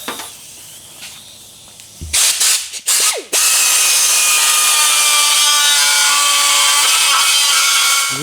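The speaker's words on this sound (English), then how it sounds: "When gouging the wheel, you probably want to use some ear protection because this can get pretty loud." Carbide or grinding gouge cutting into a crack on an aluminum wheel rim ahead of welding repair, a loud, sustained harsh scraping roar after a few brief bursts, continuous and close.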